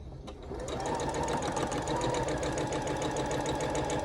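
Sewing machine stitching quilt half-square triangles for a gnome block with a full quarter-inch seam, a fast, steady whirring run that starts after a brief pause and continues loud and even to the end, with no talk.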